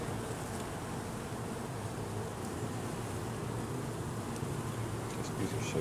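Honey bees buzz densely and steadily around an open hive during a swarm-prevention inspection, a continuous close-up drone with no pauses.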